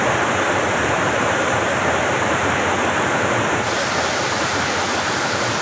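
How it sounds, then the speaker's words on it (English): Toketee Falls on a mossy Oregon trail pours in a loud, unbroken roar of falling water, dense and steady throughout, with no voices over it. "This is an amazing waterfall."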